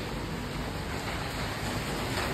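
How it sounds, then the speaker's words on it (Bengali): Heavy rain pours down outside in a dense, unbroken hiss, loud and steady from start to end, with no voices over it. "মুষলধারে বৃষ্টি পড়ছে বাইরে"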